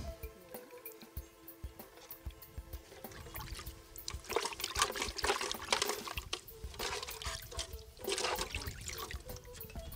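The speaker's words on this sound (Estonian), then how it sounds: "Siis võid siia sisse ära loputada käed." Running water from hands being rinsed after a wild mango body scrub at a spa, with splashing and dripping that grows busier midway, steady and close, with no talking.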